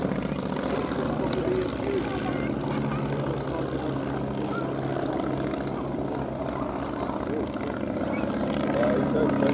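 A de Havilland Fox Moth biplane flies at an air festival, a continuous droning propeller engine heard under a commentator's voice over the loudspeakers.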